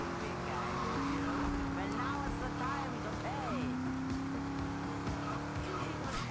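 Deimos sports car driving in GTA Liberty City Stories, a steady engine drone with gear-shift steps in pitch and a brief tire squeal, running continuously under a German-speaking voice.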